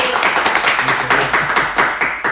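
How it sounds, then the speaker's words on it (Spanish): Audience clapping welcomes a guest onto a Mexican interview show, a sparse, close run of individual claps in an uneven rhythm, with no talk over it. "Les pido un aplauso muy grande"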